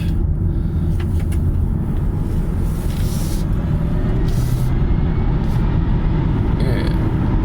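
Inside a Kia e-Niro electric car driving on a road at -3 degrees with regen level 3, a steady, low road and tyre rumble runs throughout, with a few faint clicks and rattles and no talking.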